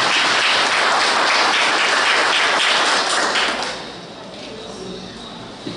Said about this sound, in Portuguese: Vamos aplaudir com carinho esse cara